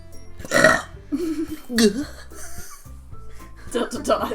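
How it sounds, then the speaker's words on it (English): A loud, throaty burp rolls out between bursts of laughter and chatter from a couple of people playing the horror visual-novel game Doki Doki Literature Club. "No, she just burps."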